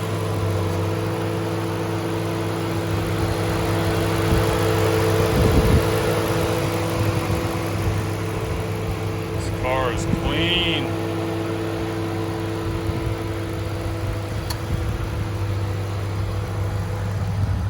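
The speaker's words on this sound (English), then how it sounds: "Engine's also purring." A Ford Mustang engine idles smoothly and steadily outdoors, a low continuous hum with faint mechanical texture. Someone speaks briefly over it.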